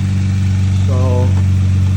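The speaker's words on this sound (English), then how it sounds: "Start the car and check for leaks." A 2022 Kia Stinger GT engine runs just after a transmission cooler install, a loud steady low idle hum up close, with a brief voice-like tone rising over it midway.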